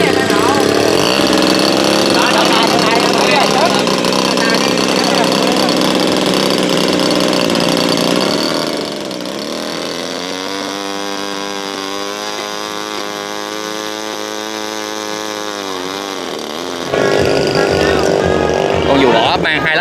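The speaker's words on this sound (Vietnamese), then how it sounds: "Đây chương trình nổ máy nha." A small motor on a powered paraglider fitted with smoke sprayers runs loud and rough, drops to a steadier, quieter idle midway, then roars back up to full power.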